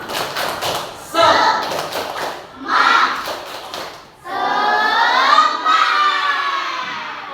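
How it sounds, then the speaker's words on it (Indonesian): Schoolchildren in a classroom perform the 'tepuk semangat' rhythmic clapping chant, with loud bursts of patterned claps followed by a long, energetic group shout. "Oke, coba tepuk semangat."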